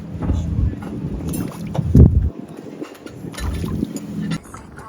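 Boat outing along the Bodrum coast in Turkey, with wind buffeting the microphone and the rumble of the hull and water, a voice talking briefly over it.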